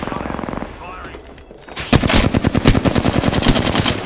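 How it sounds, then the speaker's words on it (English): Automatic gunfire in Apex Legends: a rapid, loud burst of machine-gun shots fills the second half, preceded by quieter game sounds and a brief voice. "Shooting at me from right there."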